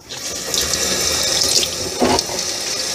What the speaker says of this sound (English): And now we fill this with some water.